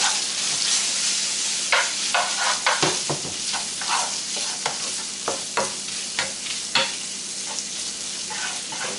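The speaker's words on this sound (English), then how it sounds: "Get that bacon good and rendered out, crispy." Bacon sizzles and renders in a pan until crispy, giving a steady close frying hiss broken by scattered pops and occasional stirring scrapes, with no talk.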